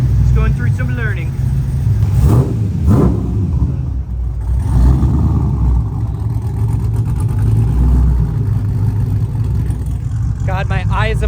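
A 408ci stroker LS V8 in a Trans Am, fitted with a Holley Terminator X, idles close by with a loud, lumpy rumble, and a person speaks over it at the start and end.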